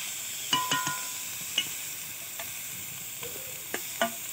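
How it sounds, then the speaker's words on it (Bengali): Cauliflower leaf paste frying in a pan while it is stirred: a soft, steady sizzle broken by a few sharp scraping clicks from the spoon. "দেখো এটাকে ভালো করে নাড়তে হবে, যতক্ষণ নাড়বো যতক্ষণ না জলটা শুকনো হবে।"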